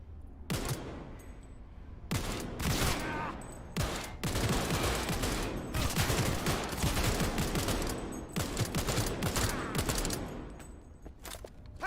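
Gunfire in the video game Cyberpunk 2077, repeated sharp bursts and volleys in quick clusters separated by brief gaps, loud and close, with a few background sounds between shots.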